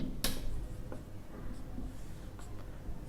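A pen scratches across paper while a maths problem on matrices is written out, soft brief strokes and taps that are faint and close, with no voice over them.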